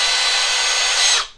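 A Milwaukee M12 Fuel hammer drill/driver with a 1/2-inch chuck bores through wood with a Forstner bit, a loud steady whirring grind held for about a second before cutting off abruptly.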